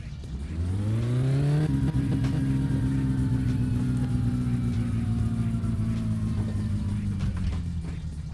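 Satsuma car engine with twin carburetors in My Summer Car held at high revs on a dyno in first gear, a loud steady drone that climbs quickly at first and then sustains throughout with no talking.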